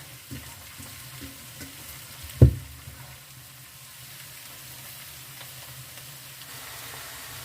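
Soft, steady sizzling of cabbage frying in a pan, with one sharp clatter early on, close and otherwise quiet.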